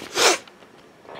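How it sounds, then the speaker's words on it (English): A single short, forceful throat clearing bursts out near the start, loud and close, followed by quiet with a faint rustle at the end. "Sorry, I had to clear my throat."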